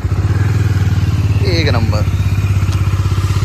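A Kawasaki superbike engine idling and revving, a loud close rhythmic throb throughout with a man's brief speech over the middle.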